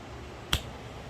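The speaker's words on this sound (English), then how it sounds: "we're going to try to use the magic finger snap" A single crisp finger snap in a quiet workshop, one sharp close click standing alone.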